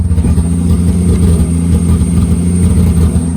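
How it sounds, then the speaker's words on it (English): A turbocharged car engine idles high and loud up close, a steady low rumble with a persistent popping, clattery texture running throughout. "So it's idling kind of high, first of all, but see, you can hear it's kind of like popping."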